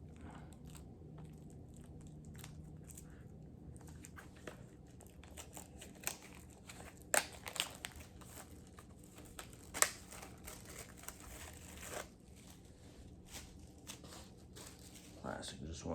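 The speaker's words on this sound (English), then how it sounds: "So let's get it open if I can get into it." Crinkling and crunching of a CD's plastic packaging being pried and torn open, close and uneven, with sharp crackles around seven and ten seconds and a voice talking at points.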